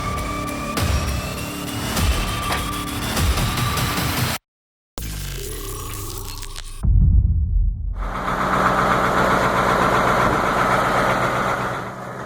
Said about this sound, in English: This homemade wood-splitting machine is truly impressive and professional, featuring an automated conveyor system